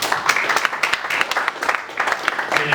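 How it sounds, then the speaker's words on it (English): Brief, lively audience applause at a customer reward dinner for an enterprise ecosystem support program, close and fairly loud clapping from a gathered crowd over a few seconds. "A round of applause for her, please."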